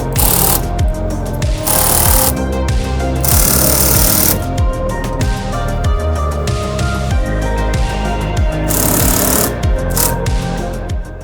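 Rail clamps on a BillieBars Pro X15 truck bed cover being tightened with a power tool, loud close bursts of rapid rattling impact that start and stop several times.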